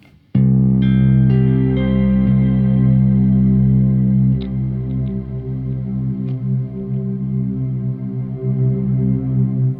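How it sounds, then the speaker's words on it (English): A loud sustained guitar drone with infinite reverb, thick layered tones ringing on continuously with a few soft notes added on top. "I turn it into infinite mode, this is where we will get our sort of drone tone"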